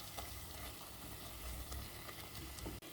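Chicken biryani masala paste frying in oil, a dense continuous sizzle with crackling pops, close and steady throughout.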